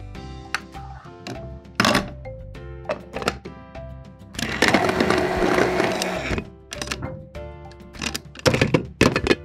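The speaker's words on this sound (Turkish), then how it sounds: "Sebzeyi blenderdan geçirelim." A kitchen blender purees vegetables for a vegetable cookie recipe in a children's toy play session, giving a dense whirring burst of about two seconds between clacks and thumps of toys being handled.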